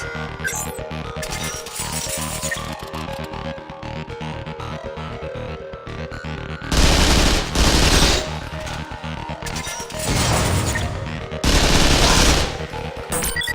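Weapon firing test in the Vanquish video game: after a stretch of steady mechanical game sound, three loud bursts of rapid automatic gunfire ring out, each lasting a second or two, with short pauses between them.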